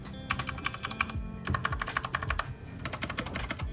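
Typing on a sleek 60% keyboard with basic keycaps, close and crisp, quick bursts of clacking keystrokes with short pauses between runs.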